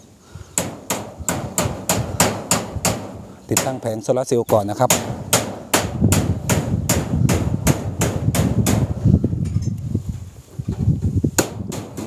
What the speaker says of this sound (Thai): ตอกแผงโซลาร์เซลล์ก่อนนะครับตรงนั้นนะครับ